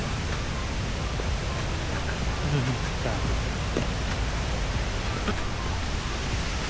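The waterfall at Chet Sao Noi National Park in Saraburi, Thailand, gives off a steady, dense roar of rushing water that fills the whole span without pause.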